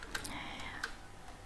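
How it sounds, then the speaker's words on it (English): Keys on a computer keyboard are tapped in a quick, irregular run of light clicks, a few sharper strokes standing out, close and fairly quiet. "Here I'm just typing"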